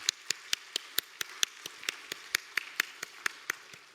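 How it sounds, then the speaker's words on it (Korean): Church congregation clapping for students' awards, heard as a sparse, evenly paced series of about sixteen sharp claps, fairly close and moderately loud, with no talking. "다시 한번 박수해 주시면 감사하겠습니다"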